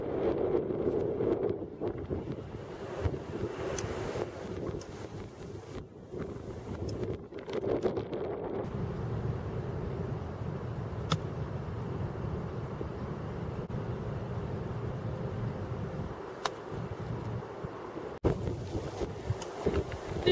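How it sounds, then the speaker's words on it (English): Gusts of wind on a windy day buffet the microphone in a steady low roar for the whole stretch, swelling and easing with a few sharp clicks and no voices. "It's windy."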